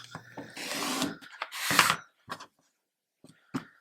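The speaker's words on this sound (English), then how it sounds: "It says for my 5 inch square to cut this on the diagonal once." A blade cuts a five-inch fabric square once along the diagonal, giving two short rasping, scraping strokes followed by a few quiet clicks and taps of the cutting tools, close by and with no talking.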